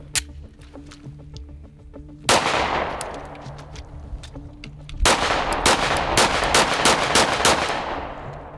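An FN Five-seven pistol fires a string of gunshots. Two loud cracks with echoing tails come first, then a faster series of sharp shots, all close and loud.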